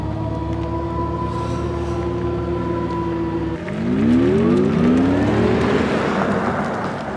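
An Audi e-tron electric SUV emits its synthetic EV sound, a steady layered hum that gives way midway to a louder rising whir as it speeds up, with no voices.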